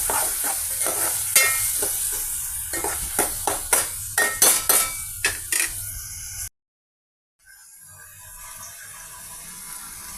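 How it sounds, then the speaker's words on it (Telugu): Tomato pieces frying in oil, a crackling sizzle with a quick run of sharp spoon scrapes and taps against the pan, then a brief cutout before a fainter, steady frying hiss resumes. "టమాటా పీసెస్ ఆయిల్తో ఫ్రై చేస్తున్నామండి"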